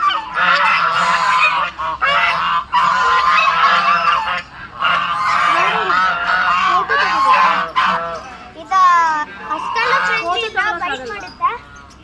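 Ducks calling loudly and repeatedly in Mysore, harsh honking quacks in bursts from several birds nearby, with a voice briefly talking between the calls.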